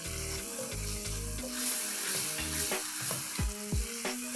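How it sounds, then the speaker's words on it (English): Plain yogurt stirred into a simmering mutton gravy in a pan, a steady sizzle with scraping strokes running under light background music for about four seconds. "A quick stir."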